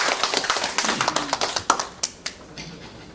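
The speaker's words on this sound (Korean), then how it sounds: "큰 박수로 환영해 주시기 바랍니다." An indoor forum audience at a regional culture and arts event in Yeosu applauds to welcome a presenter: scattered, crisp hand claps that thin out and fade to a few last claps.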